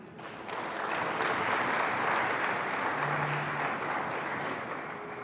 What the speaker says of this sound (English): I would like the congregation to give them a mighty clap